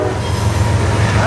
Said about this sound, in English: I'm honestly not sure what train it is.